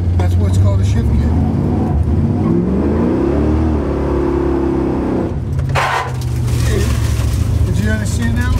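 1970 Chevy Nova Yenko/SC pulling hard through its gears, a loud, steady engine roar that climbs in pitch, drops briefly around a gear change and builds again. A voice talks over it.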